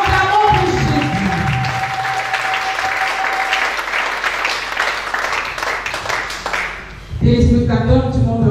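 Church congregation applauding and cheering for Jesus at a Salut en Jésus-Christ Nouvelle Génération service, sustained loud clapping with a held tone underneath, before a voice takes over near the end.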